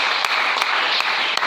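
A church congregation claps steadily in applause acclaiming the Lord during a French-language sermon, a dense, even wash of hands with a few sharper claps standing out.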